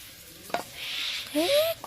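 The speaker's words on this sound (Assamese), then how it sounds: "এতিয়া মই ভাজিখিনি বহাই দিওঁ। বেঙেনা ভাজি" Brinjal slices frying in a pan give a soft, steady sizzle with a few brief stirring scrapes, faint and close, with a thin squeaky tone near the end.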